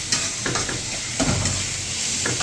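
Tomatoes and onions frying together with snakehead fish in a pan, a steady loud sizzle with a few stirring scrapes on top, close and continuous without speech.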